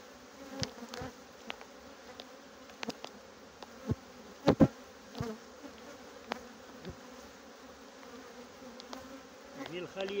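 Honeybees at a hive being expanded during the 2022 season, with brood moved up; a steady, close insect buzz hums throughout, broken by a few soft knocks and taps, with no talking.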